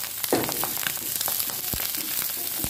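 Vegetables hit hot oil in a kadai for egg and vegetable fried rice and crackle loudly at first, then settle into a sizzle with scattered stirring clatters of the utensil.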